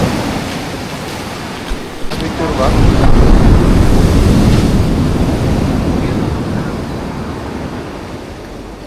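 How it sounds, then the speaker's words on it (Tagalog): Sea waves wash onto the shore at Puerto Galera beach, a steady roaring surf that swells louder midway, mixed with wind buffeting the microphone, while a person briefly speaks. "Dagat."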